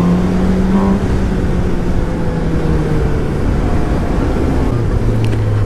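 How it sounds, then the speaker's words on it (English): Steady, loud engine drone of a 2017 Suzuki GSX-S750 motorcycle running throughout, a low rumble with a faint tonal whine and constant wind noise. "this one has a nice sound."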